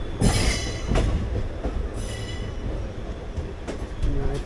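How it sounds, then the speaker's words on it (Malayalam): A passenger train rolls along loudly just after leaving Shoranur, heard from inside an unreserved general-class coach with steady wheel rumble, clacking joints and occasional squealing wheels. "ഞാനിപ്പോൾ ട്രെയിനിൽ ഇപ്പോൾ ജസ്റ്റ് ഷൊർണൂരിൽ നിന്ന് വിട്ടിട്ടേ ഉള്ളൂ"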